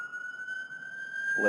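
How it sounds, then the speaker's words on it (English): Emergency vehicle siren at a very busy Washington intersection, a steady high wailing tone sounding continuously and fairly loud, with traffic rumble building toward the end. "We apologize for the horns and sirens in the background."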